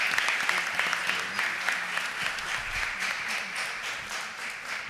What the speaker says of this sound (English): please give the ladies of Delta Sigma Theta Sorority Incorporated a round of applause